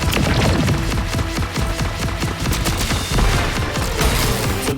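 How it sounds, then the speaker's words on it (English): Rapid volley of weapon fire from homing missiles in the video game Contra Operation Galuga, dense overlapping shots and booms repeating steadily and loudly throughout with no talk. "So this is my favorite weapon, homing missiles."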